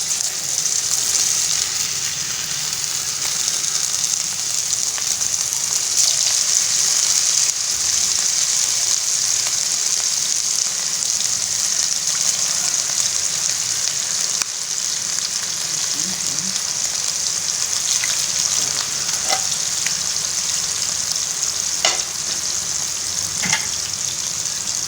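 Turkish-style beef kebabs fry in a pan over a low flame, giving a steady, close sizzle that runs throughout with a few small pops and crackles and no talking.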